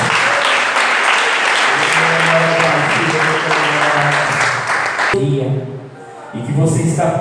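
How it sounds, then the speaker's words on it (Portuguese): A church congregation gives a round of applause, clapping densely under singing and talk, then cutting off abruptly into quieter speech before swelling again briefly. "a salva de palmas para Jesus."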